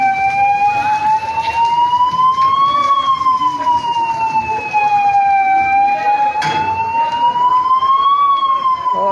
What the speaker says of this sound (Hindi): फायर ब्रिगेड की गाड़ी पहुंच गई है